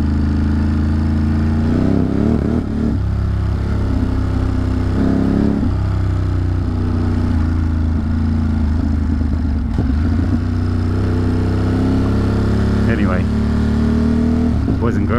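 A motorcycle engine climbs a hill, revving and dropping in pitch with rises and falls of throttle, loud and close throughout, with clattering bits.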